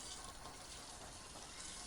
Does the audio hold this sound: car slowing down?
no